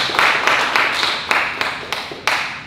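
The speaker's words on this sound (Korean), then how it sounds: "박수로 우리 맞아주시겠습니다." An audience at a Korean cultural event applauds to welcome a cooperative's chairman to the stage, a close, lively patter of handclaps with a few sharper claps standing out.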